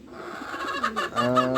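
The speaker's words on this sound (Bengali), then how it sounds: "এটা হচ্ছে দেশি কোপ মুরগি এটা অবশ্য দেখতে পাচ্ছেন যে ডিম পাড়ার একটা ডাক সে ডাক" A desi backyard hen gives her egg-laying call, a string of short clucks rising into longer drawn-out cackling notes, close and clear over a quiet background.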